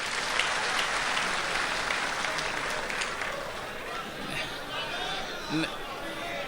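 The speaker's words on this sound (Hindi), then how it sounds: "मैं चाहता हूँ एक बार ज़ोरदार तालियां इनके लिए भी बजाई जाए।" Audience applause at a Republic Day kavi sammelan and mushaira in Dubai, a dense steady wash of many hands clapping with crowd chatter mixed in, holding throughout and swelling slightly near the end.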